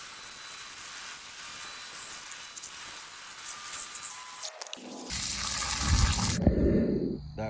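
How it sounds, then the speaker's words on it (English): Running water from a hose splashes and rushes steadily, shifting in tone as the spray hits different surfaces, fairly close and loud. "start spraying that off"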